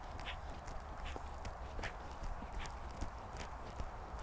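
A mare named Diamond trotting gently in a riding lesson, her hoofbeats a faint, regular clip-clop under a steady background hiss, with no talk.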